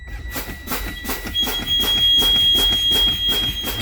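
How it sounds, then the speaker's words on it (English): Low air pressure warning buzzer in a Class A truck cab, a steady high-pitched tone sounding continuously under rhythmic pulsing noise, close and moderately loud, with no talking. "the low air pressure indicator and buzzer should come on"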